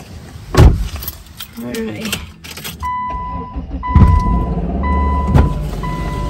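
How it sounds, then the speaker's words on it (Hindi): A car is started with a short burst of engine noise, followed by repeated electronic chime beeps and a low idling rumble, with keys and door clatter nearby and people talking. "गाड़ी चालू कर देती हूँ"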